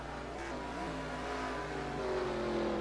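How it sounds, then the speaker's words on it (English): A rally car engine in a racing video game at Watkins Glen drones steadily with rising, revving tones, continuous and fairly close, with no talking. "Hear an engine up ahead."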